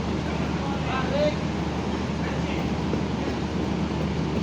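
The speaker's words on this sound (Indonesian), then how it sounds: "Perjalanan kereta api Jayabaya tiba di stasiun Cirebon." A steady low rumble of the Jayabaya passenger train rolling into Cirebon station, Indonesia, with faint mechanical squeals and murmuring voices in the background throughout.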